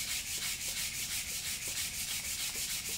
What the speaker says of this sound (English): So I'm going to sand that down just like that.